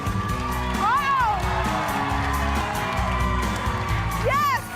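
Crowd cheering at a child's dance performance, excited shouts and whoops from many people with a few high squeals rising over the noise, while a voice talks through it.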